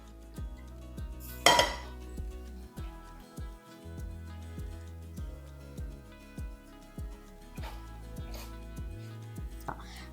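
Black rice and black urad dal ladoo mixture stirred in a bowl: repeated soft scraping and clinking of a spoon against the dish, with one sharper clatter early on, close and moderately loud, no talking.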